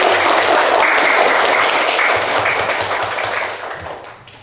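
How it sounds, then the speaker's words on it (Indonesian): Students in a classroom clap for a classmate named Rizky, a dense steady burst of applause that fades away toward the end. "Beri tepuk tangan untuk Rizky."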